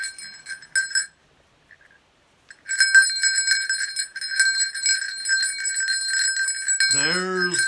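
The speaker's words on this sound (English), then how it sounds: "There's the magic bell of Christmas." A Christmas bell rings continuously and brightly, with short jingles at the start and then a steady, shimmering peal that runs to the end, briefly overlapped by a voice.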